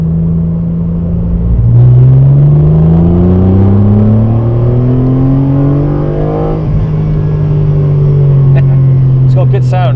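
Sports car engine revving up to about 5,200 rpm, a loud close rumble whose pitch climbs steadily over several seconds, then eases and holds before a few sharp higher blips near the end.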